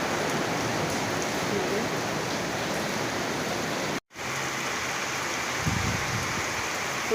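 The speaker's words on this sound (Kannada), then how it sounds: "ಆ ಥರ ಜೋರು ಮಳೆ ಬರ್ತಾ ಇದೆ" Steady, dense roar of heavy rain pouring down close by, continuous throughout with a brief drop-out partway through.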